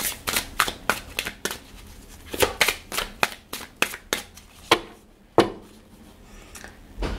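Tarot cards are shuffled by hand in a quick, uneven run of sharp riffling slaps and flicks, close and clear, tapering into a few isolated snaps as cards are drawn.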